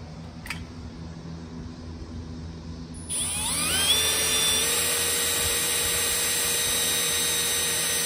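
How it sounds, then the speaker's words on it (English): A power drill whirs up to a steady high-pitched whine and holds it, loud and close, drilling through aluminum, after a few seconds of quiet room hum. "It's drilling through aluminum right now."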